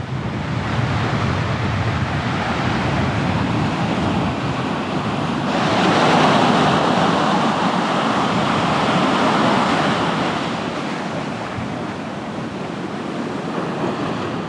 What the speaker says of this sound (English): So windy, getting a bit of a sandstorm happening here.